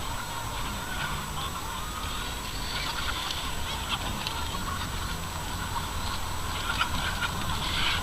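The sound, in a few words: flock of chickens on a farm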